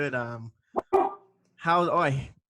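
A dog barks indoors in a room, a few sharp barks between stretches of a person talking.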